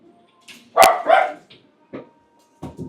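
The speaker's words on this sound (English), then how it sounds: "I haven't even seen these dogs." Dogs at an animal shelter in Fort Collins bark in a few sharp, nearby bursts, with one loud bark followed by softer yips and short barks spaced out across the moment.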